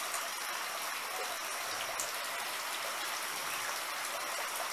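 Light rain falls outdoors on a sunny day beside a garden pond with a fountain, a faint, even hiss with no talk.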